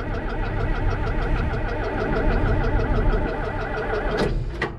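A John Deere 4430 tractor diesel engine running steadily on a freezing cold morning after a jump start, a loud continuous knocking idle with a brief sharper burst near the end.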